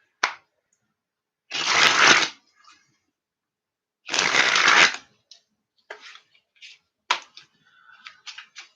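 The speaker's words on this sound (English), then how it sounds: "Just trying to mix the cards up pretty good." A deck of playing cards is riffle-shuffled twice in quick, loud bursts, each lasting under a second, followed by several lighter taps and squaring clicks in an otherwise quiet room.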